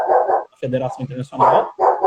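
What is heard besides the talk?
dog barking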